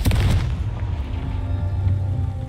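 Confringo fire spell blasting in Hogwarts Legacy, a deep booming explosion at the start that rolls into a long, loud low rumble and fades slowly.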